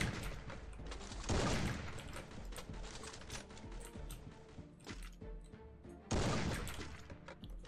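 Gunfire in the Free Fire battle royale mobile game: bursts of shots and mechanical clatter come in uneven clusters, fairly quiet overall, with louder volleys near the start and end and no speech.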